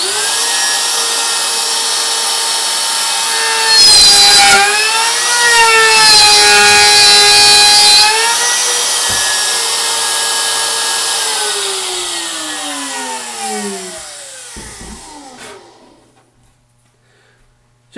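A Dewalt DWP611PK plunge router spinning at 27,000 RPM with a slightly dull bit cuts and burns into wood, a loud steady high whine rising and dipping under load for about fifteen seconds before spinning down and stopping.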